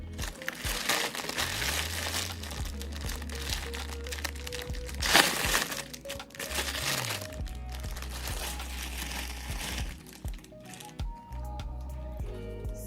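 Crinkling plastic packaging of pre-twisted passion twist hair being handled, a loud, close, continuous rustle and crackle with a brief burst of sharper crunching partway through.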